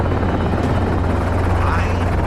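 A helicopter flying during a wild boar hunt at dusk, its rotor chop a loud, constant low thrum filling the whole stretch, with a voice faintly underneath.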